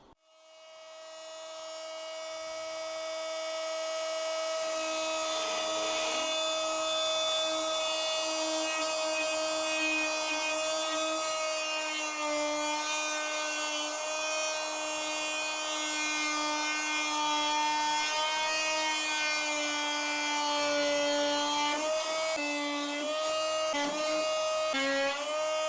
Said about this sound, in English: the plunge cutter, the oscillating cutter, has provided for a nice scarf joint here